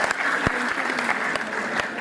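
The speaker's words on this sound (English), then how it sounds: "To give them a big applause to these award winners." Loud applause from an audience at a university G20 programme event in Jammu, honoring award winners, with steady clapping and a few sharper claps standing out over about two seconds.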